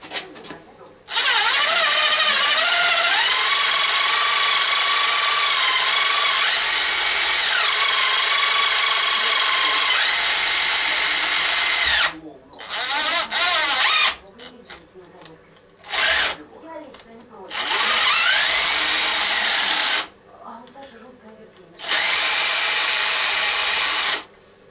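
Power drill driving a combination drill-tap bit to cut a thread, running in long loud whining bursts with sharp stops and restarts, a voice speaking briefly between runs.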